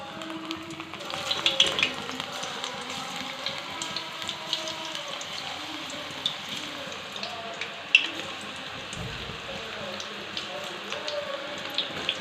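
Ragi onion pakoda frying in hot oil makes a steady, close crackling sizzle with scattered pops throughout, and a voice can be heard faintly at times.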